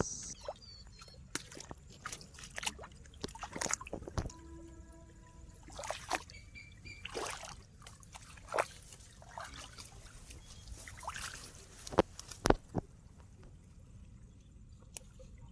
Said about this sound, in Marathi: पाण्याचा आवाज येतो झुळझुळणारा